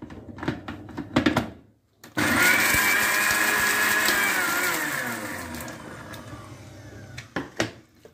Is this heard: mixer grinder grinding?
yes